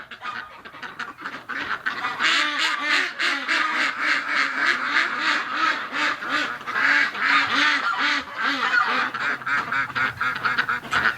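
A flock of ducks with geese quacking and honking on a winter morning, a loud, dense, continuous chorus of overlapping calls close by throughout.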